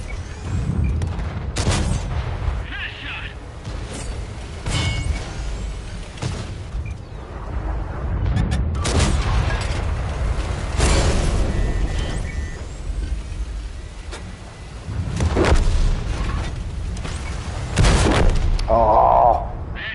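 Incoming fire striking a tank in World of Tanks: repeated heavy booms and thuds land over a constant rumbling engine bed, with a person talking at moments.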